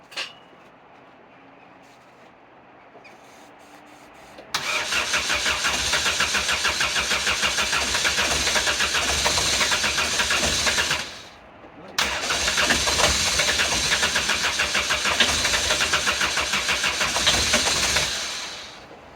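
Ford Fiesta turbo project car with old fuel in the system: a quiet lead-in, then two long bursts of rapid, rhythmic cranking with a brief pause between them, loud and close, without a clean catch.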